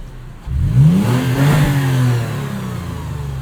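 A modified 2014 Toyota FJ Cruiser engine revs up sharply from idle and holds a rising, throaty drone before easing back, loud and close.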